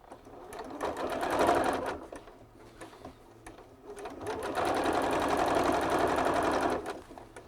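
Sewing machine stitching a hem on dress pants, running in two loud bursts of rapid mechanical whirring separated by a quieter pause.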